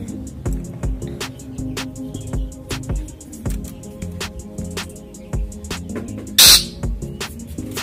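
A caged long-tailed shrike (cendet) gives a run of short, sharp, squawky calls in an uneven rhythm at close range, with one louder harsh burst near the end.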